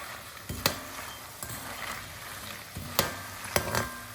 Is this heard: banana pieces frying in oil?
yes